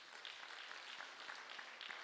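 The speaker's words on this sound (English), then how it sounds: "let's give them a very big round of applause" Applause from an audience at a G20 community engagement town hall in Rustenburg, a steady, moderately faint wash of clapping lasting the whole moment with no speech over it.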